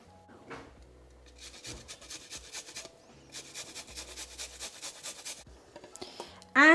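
Garlic cloves grated straight into cauliflower, heard as bursts of dry, raspy rubbing strokes in short repeated runs with pauses between, close up, ending in a sudden loud knock.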